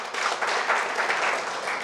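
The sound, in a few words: audience applause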